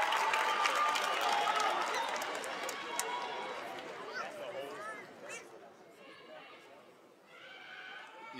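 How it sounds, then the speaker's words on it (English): A graduation ceremony crowd applauds and cheers in a large hall, a broad wash of clapping that gradually thins out, with voices over it. "Let's give a round of applause again for these Cobras who have really put in the work for their next transition."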